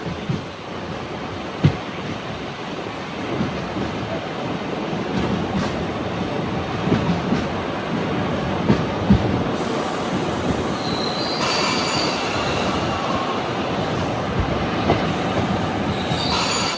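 Namo Green Rail hydrogen train pulling into a station, a loud steady rumble of wheels on track with a few clanks and a high squeal of wheels near the end.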